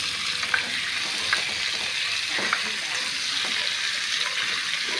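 Pork for adobong baboy sizzling steadily in a hot pan, a dense continuous frying hiss with a few soft stirring clicks and scrapes, close and moderately loud.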